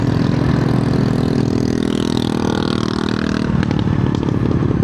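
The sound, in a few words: motorcycle exhaust roaring with silencer removed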